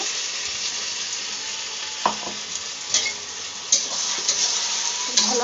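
Masala for chicken curry sizzling steadily in a pan while it is stirred, with several sharp spoon scrapes and clanks against the cookware close by.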